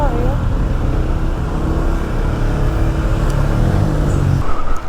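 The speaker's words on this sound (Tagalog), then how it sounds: "Grabe ang haba ng traffic." Steady road traffic in a long jam on a Philippine provincial road, a continuous low engine rumble of cars idling and creeping close by, with faint speech in the background.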